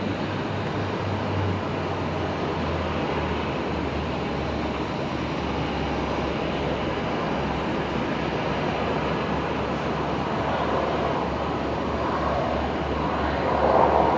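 An airliner arriving from Wollongong on runway 01 right at Brisbane Airport, a loud, steady jet roar with low rumble that holds for about fourteen seconds, swelling slightly at the end.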